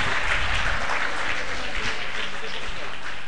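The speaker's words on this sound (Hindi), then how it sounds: "जोरदार तालियों से हम उनका स्वागत करें" An audience at Pt. Todarmal Smarak Bhavan claps in a dense, continuous wash of applause that holds steady throughout, loud and close.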